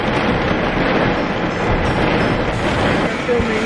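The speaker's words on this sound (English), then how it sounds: "this is a huge lightning right now" Thunder rumbles through a storm while people shelter in a car, a broad, continuous roar filling the whole stretch with no spoken words over it.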